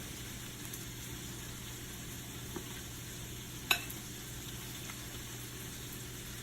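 Bacon sizzles in a frying pan: a faint, steady hiss of spitting fat with a couple of small clicks, and no one talking.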